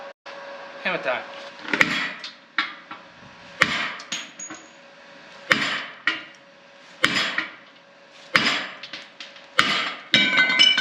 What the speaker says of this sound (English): Hammer time. Give it a whack.